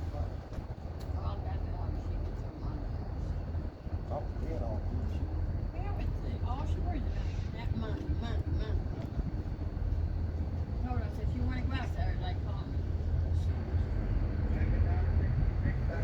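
Wheeling & Lake Erie freight train led by EMD SD40-2 locomotives rumbles low and steady nearby, a deep continuous engine drone beneath a person talking throughout.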